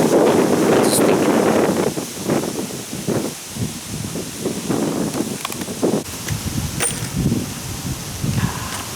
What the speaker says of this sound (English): That wind doesn't help.